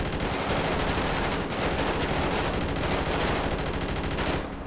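Video game gunfire in GTA 5 roleplay: dense, loud, continuous bursts of automatic shots rattle nonstop for several seconds before cutting off at the end.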